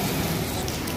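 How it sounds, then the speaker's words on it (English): Steady rain falls on a surface in Abu Dhabi, a continuous close hiss of drops with no pauses across the whole second. "raining."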